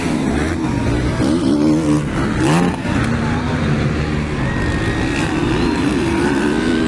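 Honda and Yamaha racing motorcycles in an expert elimination round, engines screaming and shifting as several bikes pass close together, with a commentator's excited voice running over the roar.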